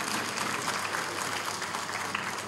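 A crowd applauds at a political speech for a Clean Punjab campaign in Pakistan, a dense, even patter of many hands sustained throughout at moderate, slightly distant level.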